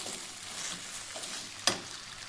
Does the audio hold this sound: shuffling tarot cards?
no